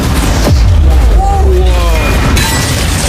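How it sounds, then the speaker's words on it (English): Cannons fire at a yacht, one heavy boom near the start followed by a loud, sustained rumbling roar and crackle, with no voices heard. "We kept firing cannon after cannon, ripping through Sean's defense."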